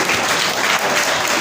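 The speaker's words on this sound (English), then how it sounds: "Let's clap for you." Loud, dense clapping from an audience at a founder's day and gala award night fills a brief moment, close and continuous with no pauses.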